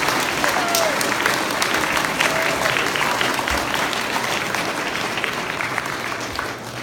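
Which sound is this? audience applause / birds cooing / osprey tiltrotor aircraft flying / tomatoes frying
audience applause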